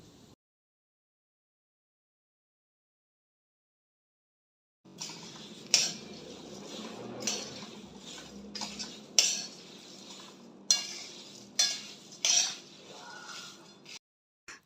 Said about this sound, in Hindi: सभी चीज़ एक दूसरे के साथ अच्छी तरह से मिल जाए तब तक हमें इसे मिक्स करना है।